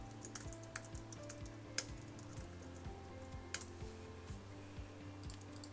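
Computer keyboard typing a new title, a quick run of soft, close key clicks with a few sharper taps, steady and quiet with no talk.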